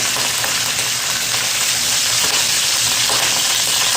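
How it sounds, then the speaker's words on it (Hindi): Chicken pieces frying in a pan for Sindhi biryani, giving a loud, dense, continuous sizzle close up with no voices. "अब इसको थोड़ा सोते कर लेंगे, 3 से 4 मिनट फ्राई करते हैं।"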